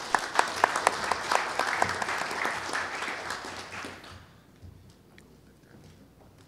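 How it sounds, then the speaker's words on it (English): Audience applause at a conference session on agricultural plastics recycling, brisk clapping for about four seconds that then dies away to quiet room noise with a few stray claps. "One more round of applause for Jan."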